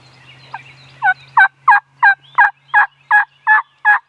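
Wild turkey gobblers on the roost in a field sound off in a rapid series of about nine loud, rattling gobbles at a steady rhythm, close and clear with no talk.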